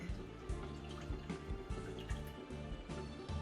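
Tap water runs and splashes over raw chicken being rinsed for Vietnamese chicken pho, giving an uneven patter of drips and splashes in a home kitchen, close by and fairly quiet.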